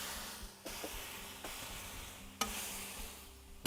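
Carnitas burnt ends frying and crisping in sauce on a hot surface, a steady sizzle with a few sharp bursts as pieces are stirred and turned.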